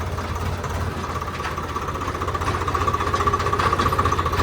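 A Swaraj 855 tractor engine running while ploughing a field, a close, loud, steady diesel chug with a regular low knocking rhythm and a faint whine, rising a little toward the end.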